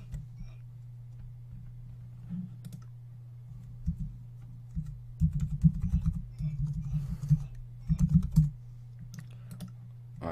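Keys clacking on a computer keyboard while entering a command on a Minecraft Bukkit server, a fast close run of taps in two bursts over a steady low hum.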